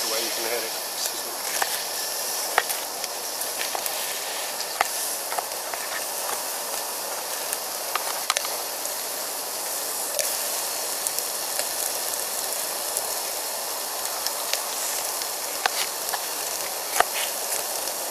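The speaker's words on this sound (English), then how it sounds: "Straight away you can hear it sizzling." Food sizzles steadily in a hot pan, a continuous crackling hiss with scattered small pops throughout.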